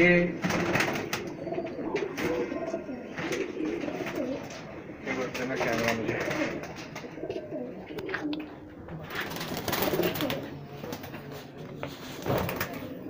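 High-flyer pigeons coo in low, murmuring bursts through most of the stretch, with people talking over them at intervals.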